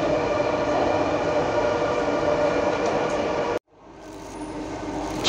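A Singapore MRT subway train runs on its rails with a steady, loud rumbling roar. The sound cuts off abruptly near the end, then builds again.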